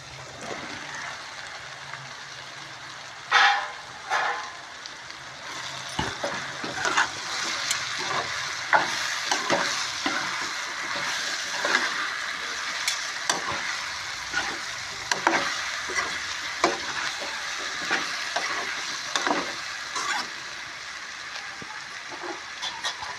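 Sliced mushrooms frying in a pan for a cashew mushroom curry, a steady soft sizzle with scattered clicks and stirring scrapes of a utensil, fairly quiet and close, with no voices.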